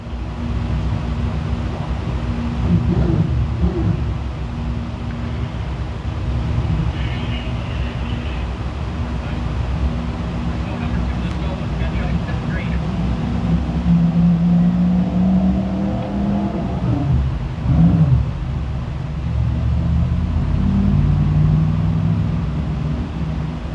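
Race cars in a Can-Am Speedway heat race roll toward the green flag and get underway, a continuous engine drone with swelling revs and rising, pitch-sliding engine tones midway as the pack accelerates.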